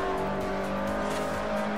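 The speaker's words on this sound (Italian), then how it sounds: "Senti il rombo della F50." Ferrari F50 engine roaring in Forza Horizon, a steady loud droning engine note held throughout with a faint rising rev toward the end.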